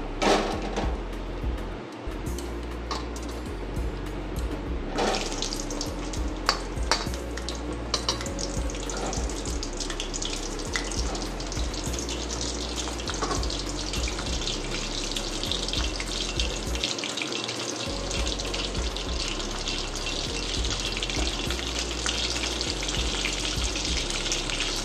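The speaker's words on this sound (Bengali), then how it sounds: "আমি 4টে করে ভাজছি, যাতে ভালো করে ভাজাটা হয়।" Pointed gourd (potol) pieces frying in hot oil for a Bengali doi potol dish, a steady dense sizzle and crackle running close and continuous throughout, with occasional clinks and stirring noises and no talk.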